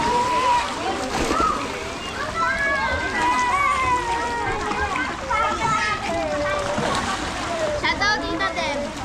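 Water splashes and sloshes as children jump into a pool at Sky Ranch Tagaytay, with a steady wash of splashing under constant excited children's chatter and shouting close by.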